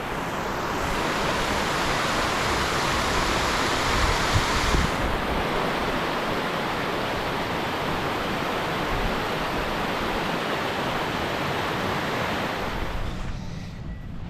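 The North River's current rushes past as a steady, loud, broad roar of flowing water, unbroken for the whole stretch with no talk over it.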